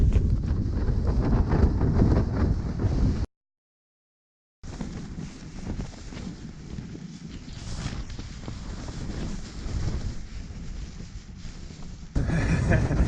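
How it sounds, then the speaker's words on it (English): Strong morning wind at a campsite rumbling and buffeting the microphone in long gusty stretches, broken by a short silent gap, loud and constant throughout. "we can't hear each other because of the wind."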